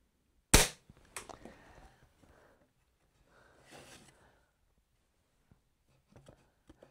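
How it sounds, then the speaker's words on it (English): A Webley airgun fires a single sharp crack into a strawboard, loud and close, followed by faint handling clicks, rustling and quiet movement noises. "So I'm going to fire it near the top, getting it all level."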